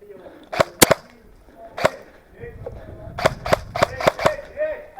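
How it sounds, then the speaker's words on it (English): Airsoft guns fire in an outdoor field game, sharp snapping pops coming singly and in a quick burst of five or six near the end, with players calling to each other around the shots. "I'm shooting at the guy behind you"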